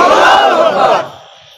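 A large crowd roars back in unison to a Nara-e-Takbir call at a religious gathering, giving one loud, massed shout that holds for about a second and then fades.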